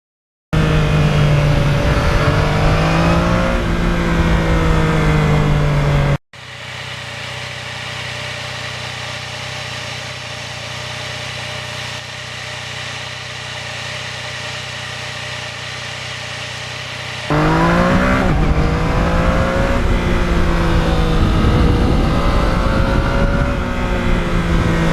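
A 2020 Yamaha MT-09 motorcycle engine running while riding, a loud steady drone that drops to a lower, smoother hum for several seconds before the stronger engine note returns.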